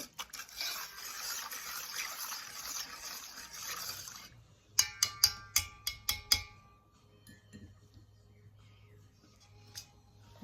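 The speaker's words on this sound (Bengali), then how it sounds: "কর্নফ্লাওয়ার তেল আর বাটারটা আমি এটাকে ভালো করে একটু মিশিয়ে নেব" Cornflour, oil and butter being mixed in a bowl for lachha semai, a soft continuous scraping and stirring followed by a run of sharp utensil taps against the bowl, then quiet.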